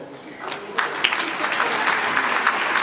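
Audience applause at a stand-up comedy show, a steady wash of clapping from a large crowd with a few sharper claps standing out and holding at an even level throughout.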